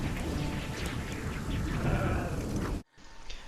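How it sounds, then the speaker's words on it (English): Heavy thunderstorm rain in the highlands of RuneScape Dragonwilds roars as a dense, steady wash with rumbling low end, cutting off abruptly near the end to a quieter ambience. "the weather effects in general feel good, with a notable highlight being the thunderstorms in the highlands,"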